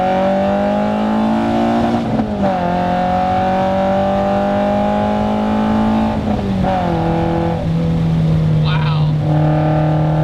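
A Toyota MR2 Spyder with a homemade custom side-exit exhaust drones steadily as the engine holds and shifts through revs, loud and close throughout, with a voice talking over it.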